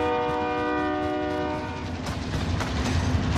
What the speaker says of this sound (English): Uh-oh, train, don't get hit.